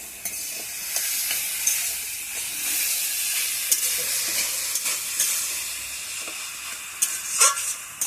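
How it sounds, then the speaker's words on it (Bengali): Potatoes sizzle steadily as they sauté in a pan, with a continuous frying hiss and occasional stirring scrapes close by, and no one speaking. "খুব ভালো করে সাঁতলানো হবে আলুটা"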